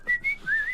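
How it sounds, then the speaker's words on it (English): A person whistling a short, clear, wavering tune, a few quick pitched notes heard alone and close. "I'm concentrating on whistling."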